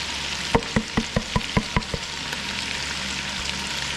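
Chopped onions drop into a hot pan for jambalaya, a quick run of about eight sharp spattering hits followed by a soft ongoing sizzle.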